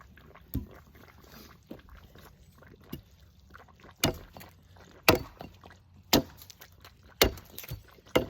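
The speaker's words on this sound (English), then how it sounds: "just sharpen your axe, let it fall, let the blade do the work" An axe sharpens the end of a wooden fence post with about eight sharp, fairly quiet chops, roughly one per second, over faint background rustle.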